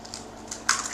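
A single egg cracks sharply against a bowl rim for apricot fruit cake batter, a brief close crunchy snap following a few faint taps, with no talk.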